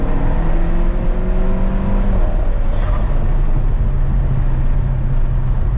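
Alfa Romeo 4C engine revving hard under throttle in third gear on a bridge, a loud continuous low exhaust rumble filling the clip, with only faint hints of pops rather than sharp cracks.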